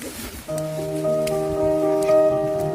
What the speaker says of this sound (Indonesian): Senang rasanya setelah berjam-jam berjalan dengan hujan yang terus mengguyur kami